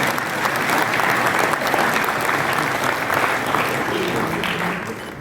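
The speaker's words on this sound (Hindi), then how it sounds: "ताली तो बजाओ" Sustained applause from an audience at a college diamond jubilee event in Rewa, with dense, even clapping that fills the whole stretch without a pause.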